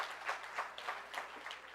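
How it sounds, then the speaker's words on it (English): Applause from the audience at the JTA Golden Torch Award ceremony, a short, fairly soft patter of clapping that swells and dips in gentle waves. "Let us give Shamar a round of applause."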